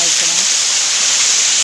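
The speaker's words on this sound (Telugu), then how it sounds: "వాటర్ సందులోంచి పడుతున్నాయి" Continuous hiss of water falling through a rocky gap at the cave-like Venuthala Kona waterfall, close and steady, with a brief voice murmuring early on before the sound cuts off abruptly at the end.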